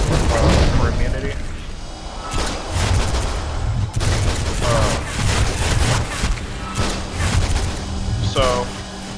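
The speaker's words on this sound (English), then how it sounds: "So I'm out here shooting" Gunfire and impact booms in a DC Universe Online battle, dense bursts of shots and blasts in rapid succession, with a voice talking over the action.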